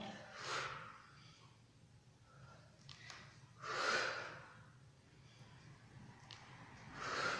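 Three strong, breathy exhalations from a person doing a plank-based leg and glute workout, spaced a few seconds apart with quieter inhales between, close up over a low room hum.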